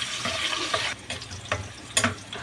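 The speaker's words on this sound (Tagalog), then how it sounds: "Maggigisa lang tayo ng bawang." Garlic sautés in a pan with a bright, close sizzle, broken by a few quick stirring scrapes and clicks of a utensil.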